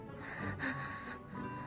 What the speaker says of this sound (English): The hyperventilating gave her away.